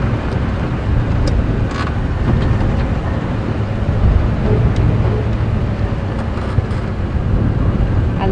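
A safari game-drive vehicle rolls through Djuma Game Reserve, its engine and tyres a loud, steady rumble and road noise with no pauses, close and continuous.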